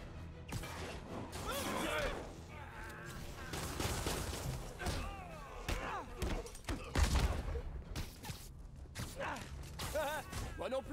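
Gunfire in the Spider-Man video game, rapid crackling shots and impacts clustered throughout, with a heavy crash near the middle, layered over game effects and continuous talk.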